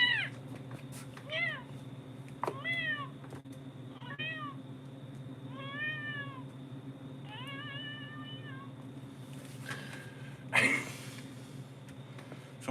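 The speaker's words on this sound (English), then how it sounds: "Someone lose a kitten?" A kitten meows repeatedly in short, rising-falling cries spread across the clip, over a steady low hum, with a louder rustle near the end.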